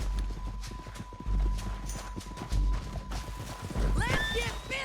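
A horse in the video game Red Dead Redemption 2 gallops with steady, close hoofbeats, then lets out a loud, shrill whinny near the end, with a faint voice in the background.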